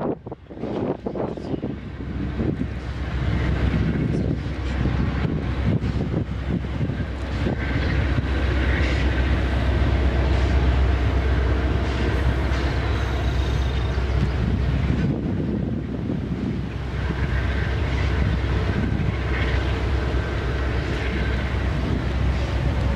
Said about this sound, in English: this huge 7-unit consist is fourth out as a former Illinois Central SD70 still in its as-delivered paint scheme slowly makes its way across the flooded bridge